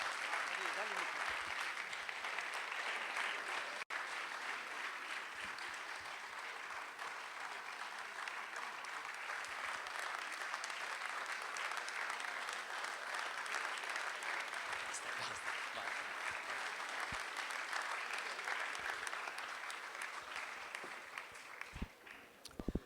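A live audience at a Musicultura 2016 music audition gives sustained, dense applause for a singer that carries on evenly for over twenty seconds, with voices faintly audible beneath the clapping.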